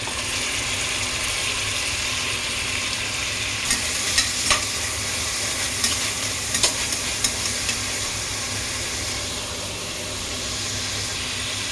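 Chopped tomatoes added to sautéing onions in a pan for catering-style chicken biryani, sizzling steadily while a spoon scrapes and stirs with a few sharp clinks in the middle, moderately close and without talk.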